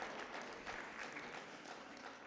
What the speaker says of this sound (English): Let's give God a hand and clap of praise.